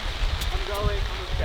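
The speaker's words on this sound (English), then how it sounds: "It is raining!" Steady rain pours onto a camping tent in a wet outdoor campsite, a dense continuous patter close by, with voices talking faintly underneath.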